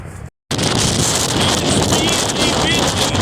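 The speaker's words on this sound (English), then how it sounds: "It's like blowing hurricane force here, and it's just above freezing too." Strong, roaring wind buffets the microphone outdoors at Mount Rushmore in near-freezing weather, a loud and steady rush that fills the whole clip after a brief cut near the start.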